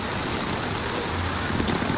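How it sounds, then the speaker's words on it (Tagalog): Steady rain hissing across the whole clip in San Mateo, Rizal, a dense broadband wash with no talk, fairly close and constant in level. "Kaya sana tumigil na yung ulan."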